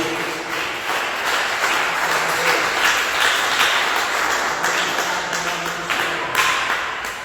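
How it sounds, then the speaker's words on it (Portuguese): A church congregation claps steadily and enthusiastically for several seconds, a dense, sustained wash of many hands with no voices standing out. "dê uma salva de palmas bem alegre para Jesus"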